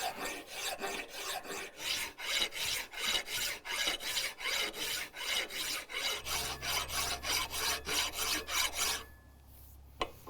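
Steady rhythmic rasping as a file is draw-filed across a wrought iron door bolt, with about twenty close, even strokes. A low hum joins partway through before the strokes stop near the end.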